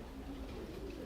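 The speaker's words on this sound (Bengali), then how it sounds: "এগুলো আমার বিডার কবুতর" Breeder pigeons coo softly in a loft, a low, faint murmur held steady under a quiet hum.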